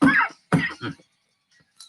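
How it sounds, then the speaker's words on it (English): Two short, harsh COVID coughs close up, followed by silence and a faint trailing sound. "COVID cough"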